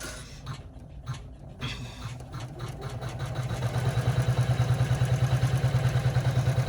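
Embroidery machine stitching a mini rucksack in the hoop, starting with uneven mechanical clatter and then settling into a fast, steady, rhythmic hum of needle strokes that grows louder.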